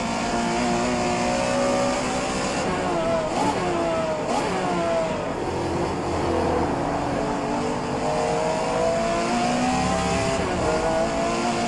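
Porsche 911 Carrera RSR 3.0L racing engine in the rFactor 2 sim, dropping to fourth and then third under braking, a loud continuous whine with rising and falling revs and no voices over it.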